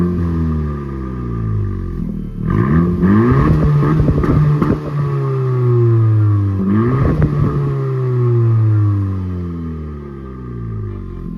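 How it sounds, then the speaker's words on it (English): A 2020 Honda Civic Si coupe with its stock exhaust, recorded close at the tailpipe, is revved in two loud blips. Each rev sweeps up and falls back to a smooth idle. "I'll show you what it sounds like from the exhaust itself"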